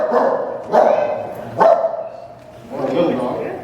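A human voice imitates a big dog, giving a few deep, gruff barks spaced apart, close and fairly loud.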